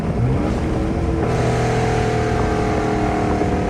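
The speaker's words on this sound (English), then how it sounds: "But these downshifts are crazy." A rebuilt second-generation Dodge Charger 392 drops through gears, its V8 engine droning and blipping loud and close from inside the car.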